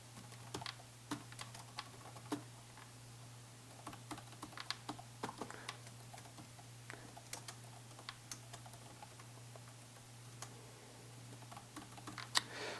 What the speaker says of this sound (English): And I can type in more employees after that.